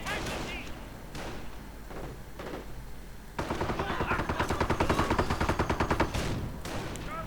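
Gunfire from an M8 armored car and infantry rifles in a strategy game battle, scattered shots at first, then a dense, rapid rattle of sustained bursts filling the second half.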